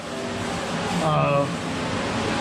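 Drying units run in a basement to dry sealer on a cinderblock wall, giving a steady airy whir throughout with a slight swell near the middle, under a speaking voice.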